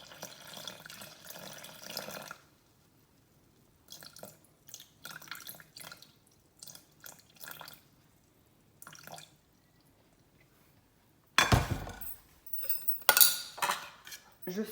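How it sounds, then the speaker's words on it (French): Water poured into a Thermomix bowl for bread dough: a broad, splashing pour builds loud and close near the end, after stretches of faint clinks, drips and quiet handling. "Ensuite, je mets mes 350 g d'eau."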